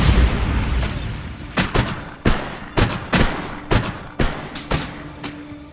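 The Bombarda blasting spell in the video game Hogwarts Legacy goes off as a string of about ten loud, punchy thuds and booms at an uneven rhythm, close up, with no talk.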